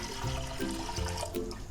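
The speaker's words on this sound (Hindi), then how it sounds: "ये तकरीबन 2 गिलास भर के पानी के डाल दिए और इसमें गोश्त डाल दिया" About two glasses of water pour into a cooking pot holding mutton for a bottle gourd gravy, a loud, close, continuous gushing splash that lasts throughout, with no talk.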